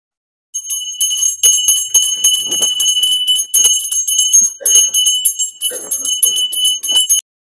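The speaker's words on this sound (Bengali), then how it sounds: "একটু ঘন্টাটা বাজে বাবু" A small brass puja hand bell rung during an Itu Puja ritual, ringing loud and close in rapid continuous bursts with brief pauses, bright sustained tones shimmering over faint background handling.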